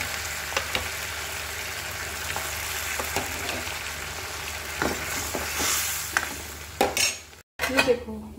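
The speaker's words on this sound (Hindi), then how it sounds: "काला जीरा और सफेद जीरा लगा के तड़का लगा रही हूँ" Black and white cumin seeds crackle and sizzle in hot oil, a steady frying hiss with occasional sharp pops and a spoon scraping the pan near the end.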